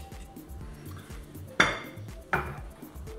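Meat goes into a pressure cooker pot for an Andalusian puchero with chickpeas, making two sharp metallic clanks against a low background rumble.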